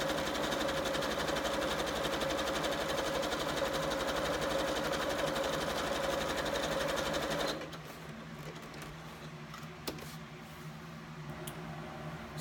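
A sewing machine stitches steadily and close by for several seconds, then stops, leaving faint mechanical handling noises.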